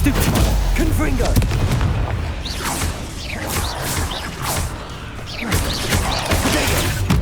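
Spell-casting combat in Hogwarts Legacy, Confringo and Stupefy blasts going off in quick succession with booms, crashes and whooshes, over a dense, loud game soundtrack with a voice calling out throughout.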